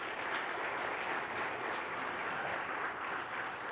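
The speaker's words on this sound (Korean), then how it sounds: "큰 박수로 격려합시다" A church congregation gives a sustained round of applause during a Sunday service, steady and fairly quiet, heard from a moderate distance without speech.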